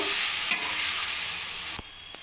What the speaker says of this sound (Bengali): পালং শাকটা দিয়ে ভালো করে আমি নাড়িয়ে নেব